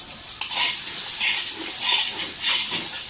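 Chopped tomato hits a sizzling spice masala for duck curry: a loud, close hissing fry broken by repeated rhythmic stirring scrapes of a spoon against the pan, with no voices.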